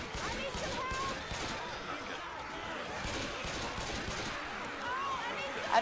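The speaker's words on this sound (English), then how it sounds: "I don't know if I'm shooting at anything," Continuous rapid gunfire in Left 4 Dead 2, a steady dense clatter of shots filling the whole stretch with some voices underneath.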